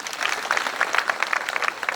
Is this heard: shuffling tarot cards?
no